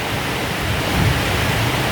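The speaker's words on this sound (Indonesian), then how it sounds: "Hujan deras sekali beserta petir, teman-teman." Very heavy rain pouring down as a loud, dense, continuous roar, with a low thunder rumble blended into the wash, no voices.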